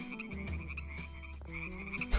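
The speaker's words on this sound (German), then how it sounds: "Die Frösche." Frogs croaking in the video game Deiland, a steady layered chorus of repeated croaks that carries on alone and fairly loud throughout, with no talking over it.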